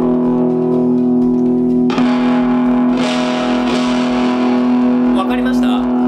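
Electric guitar played through a small Photogenic PG-10 practice amp with the bass knob turned all the way up, a loud sustained chord then a few heavier strums ringing with a thick, dense low end.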